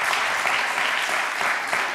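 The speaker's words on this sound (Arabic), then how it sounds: "تصفيقة كبيرة على الجمهور الحاضر معنا توا" Sustained applause from a studio audience at a televised evening entertainment show, a dense steady wash of clapping that holds loud throughout with no voices over it.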